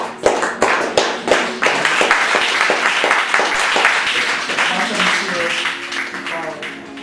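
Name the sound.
audience applause at a poetry reading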